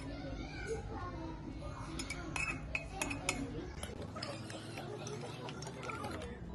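Spoon clinking against a mug while stirring mug cake batter at home, a run of sharp close metallic taps and scrapes under steady talking.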